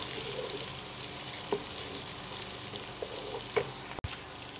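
Onions frying in a pot while beef biryani is cooked: a soft, steady sizzle with faint crackles and a few small clicks of stirring, no speech.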